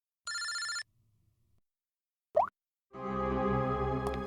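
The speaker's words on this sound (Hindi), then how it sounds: "इनका फोन मत उठाओ तुम।" A telephone rings in short electronic bursts in a quiet room, with a brief sharp click between the rings and no one speaking.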